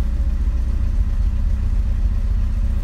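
The engine of a 1974 Triumph Spitfire 1500 idles at about 900 RPM, giving a steady, low, rumbling drone at constant loudness with no talking.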